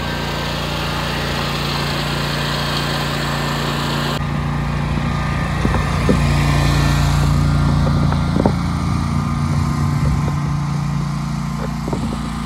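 A lawn mower engine drones steadily while cutting an overgrown backyard, loud and continuous throughout, with a slight shift in tone partway as the load changes and occasional small knocks.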